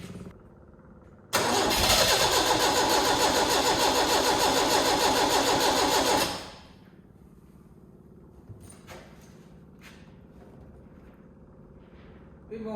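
A neglected Marlin's engine is cranked with the choke on, then roars to life loud and close for several seconds before settling into a lower idle, with a few clicks and knocks afterward.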